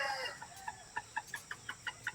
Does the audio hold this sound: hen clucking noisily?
yes